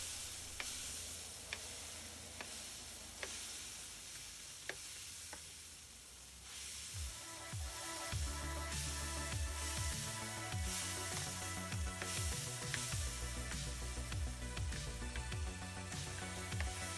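Pork belly burnt ends on a Big Green Egg get quick hissing spritzes of a 50-50 apple cider vinegar and apple juice mix, followed by quiet, crackling sizzle from the meat.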